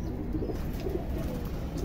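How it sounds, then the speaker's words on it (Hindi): Pigeons from a highflyer loft coo softly and continuously in a steady low murmur, with faint chirps over a constant background hum and no talk. "तो ये थे सुहेल भाई के कबूतर"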